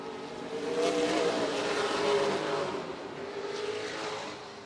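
Race cars roar around the oval at Redwood Acres Raceway, a steady loud engine drone rising and falling as the pack passes, with no talk over it.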